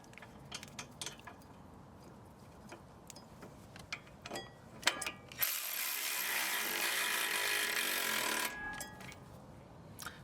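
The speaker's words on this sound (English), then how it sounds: "there's so much thread locker that the Milwaukee can't even power through it" A Milwaukee power ratchet strains against a thread-locked brake caliper bolt on a 2010-2014 Ford Mustang, a steady close whirring burst lasting about three seconds after scattered light clicks and ticks.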